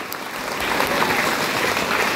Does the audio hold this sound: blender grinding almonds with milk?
no